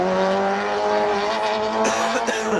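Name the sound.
Nissan S13 drift car racing, tire squeal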